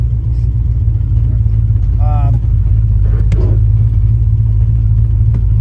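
A 1970 Plymouth Duster's 413 V8 engine rumbles steadily and loudly while driving, a deep continuous drone with a few faint voices briefly over it.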